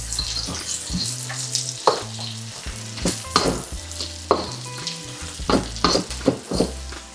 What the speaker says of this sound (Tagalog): ibalik na natin tong pork belly guys. Tapos haluin nyo lang ng haluin.